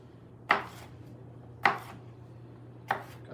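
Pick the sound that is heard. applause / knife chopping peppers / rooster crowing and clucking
knife chopping peppers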